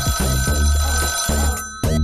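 A telephone rings on the set of a Malayalam TV quiz show as a contestant turns to a phone-a-friend lifeline, sounding as loud, close, pulsing ring bursts over steady tones, with a short gap near the end and no talking.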